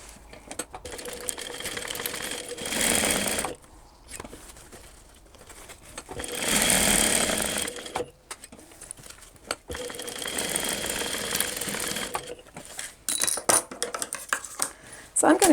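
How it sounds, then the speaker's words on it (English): A sewing machine stitches down the edge of fabric for a switch case in several bursts of rapid stitching, stopping and starting, with small clicks and handling noises in the pauses. "we want to sew down the edge, along there, and back to the top"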